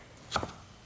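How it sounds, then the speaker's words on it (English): Two quick knife chops on a cutting board, close and crisp, while vegetables are cut for soup in a home kitchen, with a quiet background and no voices. "I don't mind chopping vegetables."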